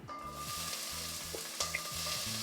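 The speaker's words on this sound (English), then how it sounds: "I'm going to saute the onions using the juices from the meat" Onions sizzle and fry in meat juices in a pan, a steady close crackle with light stirring scrapes and a few brief pops, with no talking.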